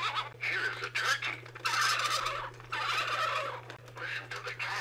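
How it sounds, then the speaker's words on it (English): A See N' Say toy plays a recorded turkey gobble through its small speaker, a rapid, rattling series of gobbles in several bursts, close and fairly clear with a low steady hum underneath. "Here is a turkey."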